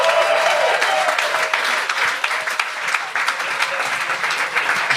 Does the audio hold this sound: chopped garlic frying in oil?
no